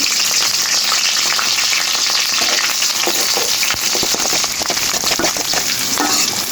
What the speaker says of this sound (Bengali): এটাকে আমি একটু ভাজা ভাজা করে নিব।